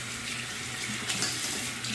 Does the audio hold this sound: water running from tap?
yes